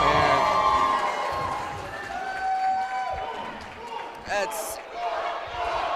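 A crowd at an indoor professional wrestling event cheers and murmurs in a busy arena hubbub, with thuds, shouts and whistles mixed in and a voice talking over it.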